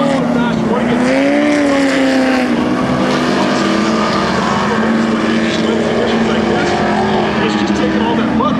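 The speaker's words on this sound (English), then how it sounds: "The faster you go, the louder the trucks get." Off-road racing trucks in a Formula 4X4 race at Crandon roar through mud, a loud, continuous engine drone whose pitch rises and falls as they accelerate close by.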